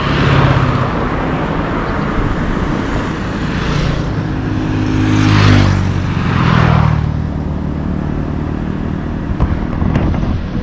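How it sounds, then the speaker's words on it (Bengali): Road traffic along a street in Vietnam in the morning, with a steady dense roar of vehicles and a few louder swells as nearer ones pass, continuous throughout. "গাড়ি তো অনেক আসছে"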